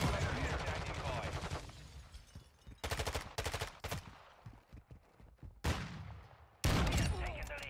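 In a Modern Warfare II mission, bursts of automatic gunfire erupt in loud rapid volleys, separated by quieter gaps, with a radio voice briefly audible between shots.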